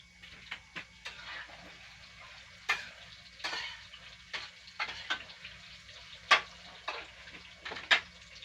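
Saba bananas cook with milk in a pan while a spoon stirs them. Quiet, close bubbling runs under a series of sharp scraping and clicking strokes spaced irregularly.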